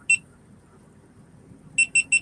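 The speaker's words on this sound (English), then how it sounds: "Beep, beep, beep." Electronic beeping from a device: one short beep, a pause, then three quick evenly spaced beeps, clear and close over a low background hum.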